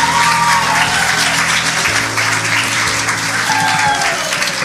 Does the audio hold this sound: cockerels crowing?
no